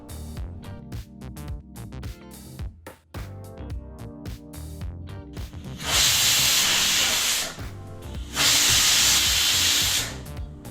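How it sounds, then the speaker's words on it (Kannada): A pressure cooker on the stove lets out two long, loud whistles of hissing steam while chickpeas cook for a festival dish. Rattling kitchen sounds come before the whistles, with a short gap between the two blasts. "ಈಗ ನೋಡಿದ್ರಲ್ಲ, ಕುಕ್ಕರು 2 ವಿಸಲ್ ಬಂದಾಯಿತು."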